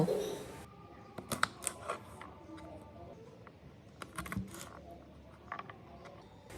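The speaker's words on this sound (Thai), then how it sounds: "หั่นถั่วฝักยาว" A knife chops long beans on a cutting board while beef daging goreng merah is being prepared: sparse, sharp, close taps in small irregular bursts over a quiet kitchen background.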